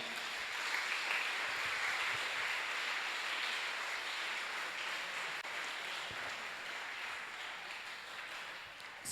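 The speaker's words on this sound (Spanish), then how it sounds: "dale un fuerte aplauso al Señor" Church congregation applauding during a worship service, a steady, dense wash of clapping that holds evenly for the whole stretch and fades only slightly toward the end.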